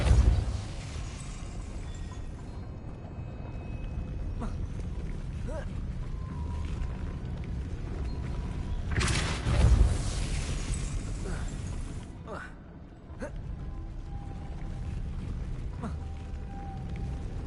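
A Depulso force spell is cast in Hogwarts Legacy, with rumbling effects and a sharp, booming burst near the middle of the clip, heard under a voice calling out.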